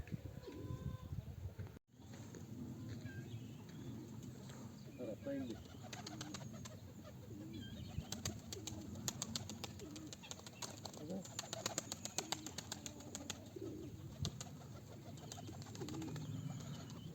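Pigeons coo and wings flutter amid faint rustling and background murmur, with occasional soft flapping as a bird settles.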